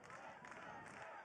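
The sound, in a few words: lacrosse crowd cheering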